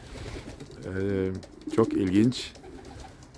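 A young male homing pigeon coos in a short, throaty burst close by, with someone talking over it.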